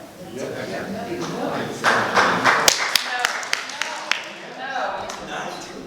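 An audience at a city council meeting breaks into a short scatter of claps and sharp taps, mixed with talk and room murmur.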